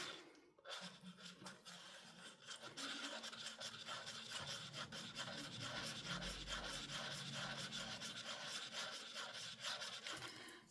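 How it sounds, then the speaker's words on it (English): Resin being stirred in a cup for a three-colour larimar pour in purple, blue and green, a fast steady scraping and rubbing that runs continuously, faint overall, with no speech. "So I'm just stirring this, making sure that it's all fully stirred in."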